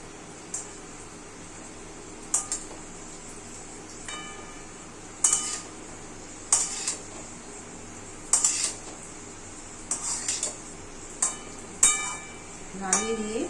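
Egg and potato biryani stirred in a pot, with a spoon striking the metal in sharp, regular clinks about once every second or two over a low background hiss.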